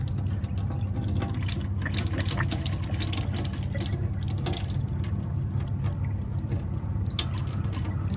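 Liquid rushing and gurgling as it is pumped through an RV's plumbing into the drain traps during winterizing, a continuous loud watery flow with light dripping and splashing, close by and without speech.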